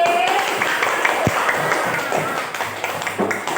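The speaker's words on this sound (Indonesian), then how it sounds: "Tepuk tangan untuk kelompok B." A classroom group claps for a presenting team, a brief scatter of applause mixed with taps and background chatter, fading toward the end.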